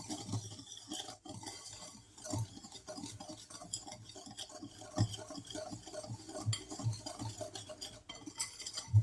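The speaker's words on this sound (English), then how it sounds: "cornstarch, and salt. Whisk." Cornstarch and salt whisked in a bowl for a chocolate pie filling, a quick rhythmic run of light scraping and clinking strokes, close and fairly quiet with no talking.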